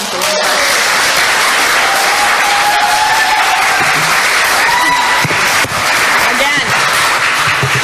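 An audience at a public legislative hearing on a bill breaks into loud, continuous applause and crowd noise, with the steady roar filling the whole room and voices faintly mixed in beneath it.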